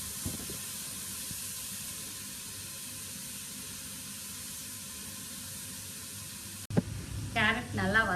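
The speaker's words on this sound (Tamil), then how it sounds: "கேரட் நல்லா வதங்கிடுச்சு." Carrots sautéing in a heavy pan for carrot halwa give a steady, even sizzle that runs alone for several seconds before cutting off, and a voice then speaks.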